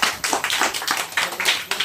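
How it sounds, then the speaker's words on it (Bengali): A group claps at a classroom Teachers' Day celebration for a Class XI batch, a quick, fairly even run of sharp handclaps, close and lively, with no talk over it. "হাততালি হাততালি।"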